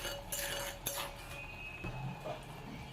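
A spatula stirs fried fish pieces into softened dock greens and tomatoes in a pan, giving a few faint metallic clinks and scrapes over a low background hiss.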